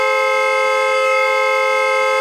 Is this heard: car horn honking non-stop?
yes